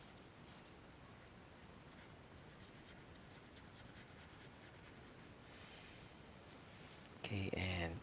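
Pen scratching across paper while sketching a bolt diagram, a faint continuous scribbling close by, ending in a brief louder tonal sound near the finish, with no talking.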